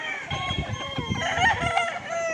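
A three-year-old Boston Millionaire gamefowl cock crowing loud and close, one drawn-out cock-a-doodle-doo with faint background noise.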